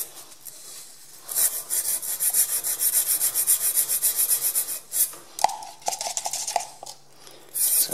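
A wire brush scrubs with acetone inside a hole in a Dodge Viper engine block, a close, rhythmic rasping stroke after stroke, pausing briefly before resuming in shorter bursts.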